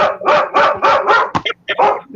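Excited dog barking in a quick series of loud, close barks, five in a steady rhythm and then a few shorter yips and whines, no talking over it.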